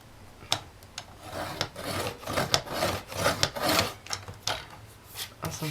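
A Fiskars paper trimmer slices through craft paper 1 cm from the edge, heard as a series of close, dry rasping strokes and sharp clicks spread across several seconds, with no voices.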